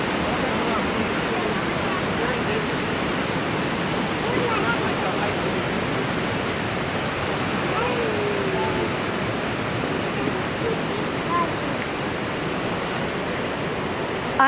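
La Fortuna waterfall roars as a dense, unbroken rush of falling water, loud and steady from start to finish, heard from nearby on a hiking trail with no other sounds breaking through.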